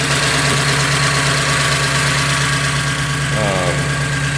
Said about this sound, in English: solid lifter motor. It's a 68 327.